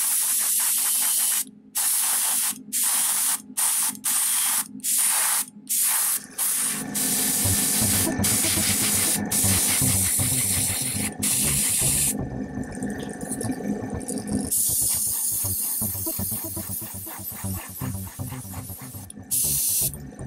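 An airbrush sprays clear coat onto a painted Storm Talon model as a steady close hiss, first cut into short bursts, then running almost continuously, with no talking.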